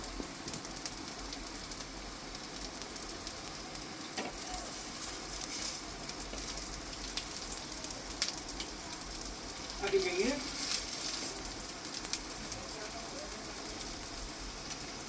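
Zinger patties shallow fry in oil with a steady, dense crackling sizzle that runs throughout without a break, with a faint voice heard briefly partway through.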